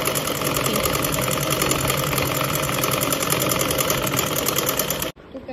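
A sewing machine runs straight stitches along a long cushion cover, giving a loud, continuous, rhythmic motor whir that holds steady for about five seconds, then cuts off abruptly.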